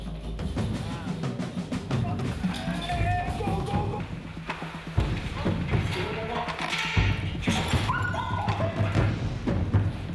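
Search and rescue dog working inside a disused hospital during an earthquake rescue drill, with several short barks and yips, soft whimpers and thuds of movement over a steady background while people talk.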